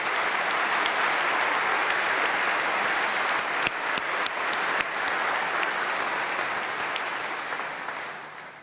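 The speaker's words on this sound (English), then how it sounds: "Another huge round of applause for Freya." Sustained audience applause fills a graduation ceremony hall, a dense, steady wash of clapping from a large crowd that holds throughout and tapers slightly toward the end.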